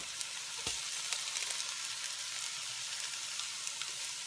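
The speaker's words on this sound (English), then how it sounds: "And I'm going to cook that for about 3 or 4 minutes until the garlic has softened and become fragrant." Three cloves of minced garlic fry in a pan with softened onions for chicken paprikash, giving a steady, close, continuous sizzle with small crackles and one soft knock early on.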